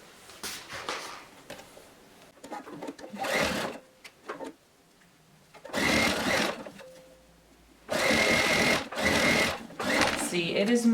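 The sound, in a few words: sewing machine sewing all around a fabric bag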